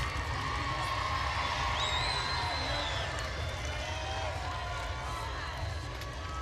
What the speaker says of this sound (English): I hear cheering from the Maryland bench